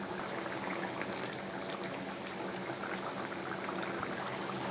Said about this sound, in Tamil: புளி சேர்த்ததுக்கப்புறம் எந்தளவுக்கு நல்லா கொதிக்கிது பாருங்கள்